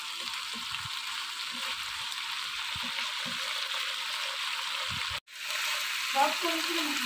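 Steady broadband sizzle of chicken manchurian frying in a pan, continuous and fairly loud with faint stirring knocks, a brief dropout near the end, then the sizzle resumes.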